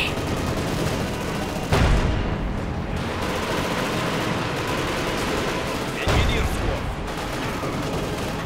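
Game battle in Company of Heroes 2 with a machine gun firing amid dense, continuous combat noise, punctuated by two louder bursts around two and six seconds.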